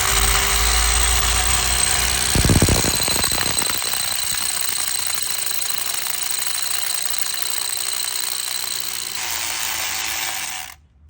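An Einhell 26 mm, 800 W rotary hammer drill whirring loudly at speed, with a rapid hammering burst near the start, then steady motor whine until it winds down and cuts off.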